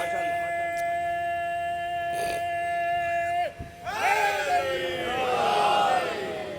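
A majlis congregation erupts into loud collective chanting of salawat, a swelling mass of voices rising after a sustained tonal sound, filling the hall and growing stronger toward the end.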